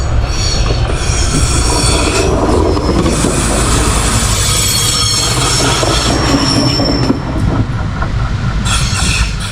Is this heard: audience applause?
no